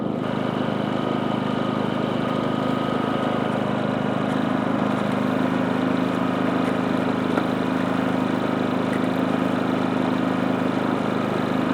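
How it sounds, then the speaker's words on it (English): An insulated portable generator runs with a steady, even engine hum and drone, close and continuous with no talk. "It is a insulated generator, so it's considered super quiet."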